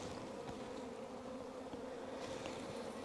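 Honeybees drone steadily around an open hive during a late-August colony inspection, with returning foragers carrying bright yellow pollen. The dense buzz of many insects holds close and even throughout, with no talking.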